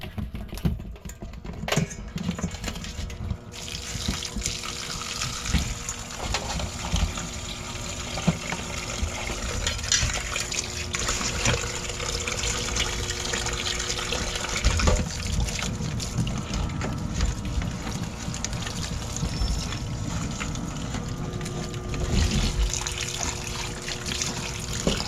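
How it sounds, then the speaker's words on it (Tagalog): Seafood being rinsed in salted water, with steady splashing, trickling and sloshing that runs close and continuous throughout, a faint voice now and then underneath. "Papaigahan lang sa tubig. Tubig po na may asin."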